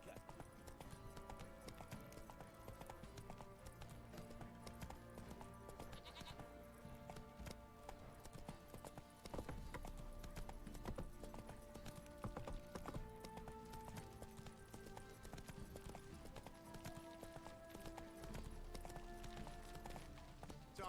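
Horse hooves clip-clop along in The Witcher 3, a steady walking rhythm sitting under game music and ambience throughout, moderately faint with no talk over it.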